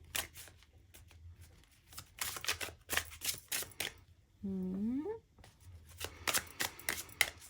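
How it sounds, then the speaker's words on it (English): Tarot cards are shuffled by hand in quick papery bursts and riffles, close and clear, with a short hummed or vocal tone partway through and brief pauses between bursts. "Shuffling in silence is kind of weird, right?"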